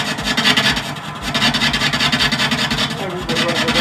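A metal lathe on an AL960B toolpost block setup makes a first rough cut with a WNMG insert at about 280 RPM, producing a continuous, loud, rasping grind with a rapid pulsing texture that holds steady, with no voices.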